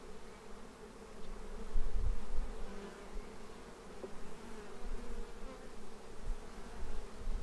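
Honey bees buzz steadily around an open hive during a second-box hive expansion, a dense continuous drone at close range with slight swells in loudness and no talking.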